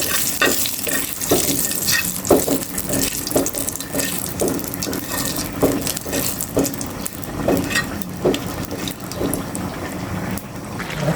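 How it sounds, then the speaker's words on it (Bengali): Bay leaf and cumin seeds fry in hot oil for tempering, a loud, continuous sizzle broken by repeated rhythmic stirring scrapes, with no voices. "দিয়ে দিলাম একটা তেজপাতা আর দিয়ে দিচ্ছি কয়েকটা জিরা এটা একটু নেড়ে ফেলে ভেজে নেব"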